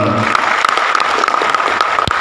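A crowd at an event applauds for a man named Sam Sumadi, dense loud clapping with a few sharper claps standing out, steady over the whole stretch.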